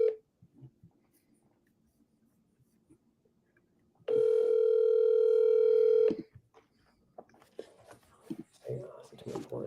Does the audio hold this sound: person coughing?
no